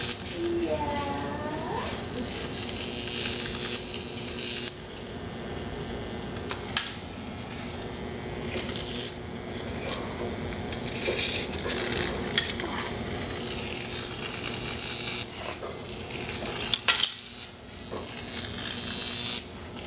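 Buzzing crackle of a homemade Jacob's ladder high-voltage arc, a steady harsh electric sizzle that runs continuously with brief surges and dropouts, close and fairly loud.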